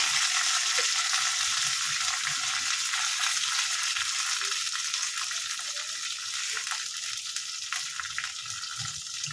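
Mustard seeds, curry leaves and onion fry in a pan with a steady, close hissing sizzle that runs unbroken for the whole stretch, with no voices.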